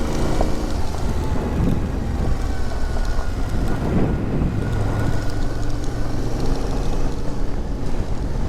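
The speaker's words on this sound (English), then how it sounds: "It is super windy." Strong wind buffets a rider on a steep mountain road on a Yamaha Ténéré 700, a loud, continuous roaring rumble with gusting swells and no pauses.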